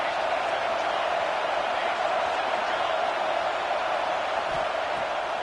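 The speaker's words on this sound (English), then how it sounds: "this crowd is turning it up a notch" Stadium crowd at an Auburn versus Oregon American football game, a dense steady roar swelling as second down approaches, loud and continuous throughout.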